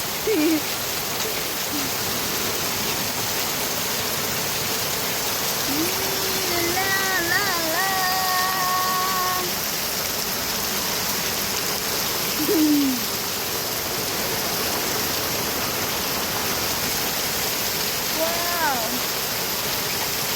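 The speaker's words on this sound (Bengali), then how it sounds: "অনেক দিন পরে এরকম ঘন বৃষ্টি হচ্ছে" Heavy early-morning rain pours down as a dense, steady hiss that never lets up, with a few faint bird calls rising briefly through the downpour.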